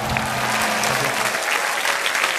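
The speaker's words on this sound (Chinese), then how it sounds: "我们掌声欢迎。" Studio audience on a Chinese dating show applauds, a dense, steady burst of clapping that fills the whole moment, loud and close, with a faint voice briefly audible underneath.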